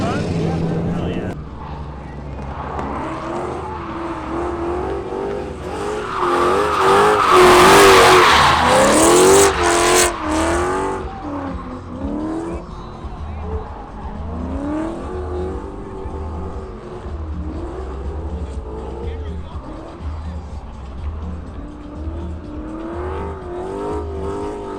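A drift car at a motorsport event revs hard with repeated rising and falling engine pulls and screeching tires, loudest midway, while a driver talks continuously over the noise.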